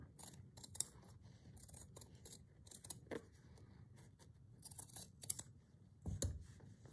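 Scissors fussy cut a motif out of fabric, heard as quiet, close, intermittent snips and crisp blade closures spaced irregularly, with no talking.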